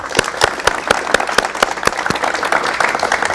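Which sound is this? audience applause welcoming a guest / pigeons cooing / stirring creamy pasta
audience applause welcoming a guest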